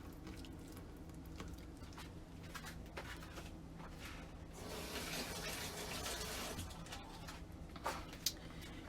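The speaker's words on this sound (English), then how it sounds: "now I'm gonna give my hand a quick wash." Hands are washed under a running kitchen tap, a steady splashing stream that grows fuller and louder midway, recorded fairly faintly with small clinks near the end.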